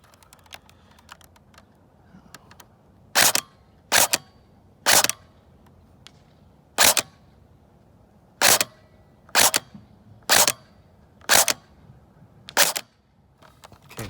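A G3/SG1 rifle fired while being sighted in: about ten sharp, loud single reports at irregular intervals, each cutting off quickly against quiet background with no talk.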